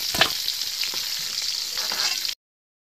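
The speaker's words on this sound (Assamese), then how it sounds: "মোৰ কুচিয়াখিনি ভাজা হৈছে" Pieces of kuchia eel fish fry in a pan with a dense, continuous sizzle and faint stirring scrapes, close and steady until the sound stops abruptly.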